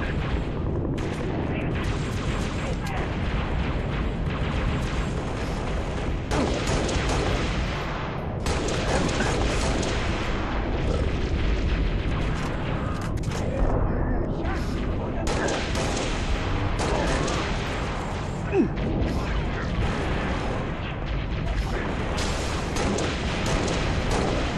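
Hostile gunfire in Halo Reach during a battle at a Covenant base: continuous dense volleys of weapon fire and booming explosions, with voices talking over the din.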